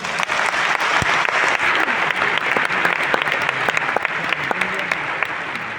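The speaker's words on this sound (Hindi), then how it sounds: "तो उन लोगों के लिए भी एक जोरदार ताली हो जाए।" An auditorium audience at a recognition program in Biswa Bangla Auditorium breaks into loud, sustained applause, dense clapping filling the room close and continuous.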